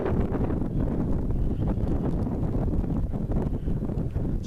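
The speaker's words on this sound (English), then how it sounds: "It's a windy day, I wouldn't want to be doing this too much." Gusty wind buffets the microphone on a windy mountain ridge walk toward Helvellyn, producing loud, uneven low rumbling throughout with no voices.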